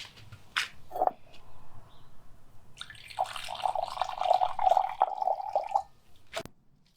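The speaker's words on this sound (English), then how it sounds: "and pour it into the fresh tank." Sanitizing solution, about a quarter cup, poured into a camper's 23-gallon freshwater tank on a Basecamp 20: a couple of brief splashes, then a steady trickling pour lasting several seconds at close range before stopping with a final drip.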